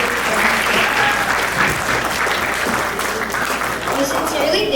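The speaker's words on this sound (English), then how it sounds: "well-deserved round of applause for our" A crowd applauds steadily at an arangetram, an Indian classical dance debut, in Charlotte, North Carolina; a dense wash of clapping that stays loud and even from start to finish.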